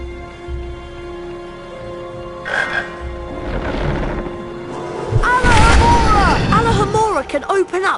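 Chocolate frog croaking in a Harry Potter video game, with deep booming game sounds and rising, warbling tones building to a loud, busy burst near the end.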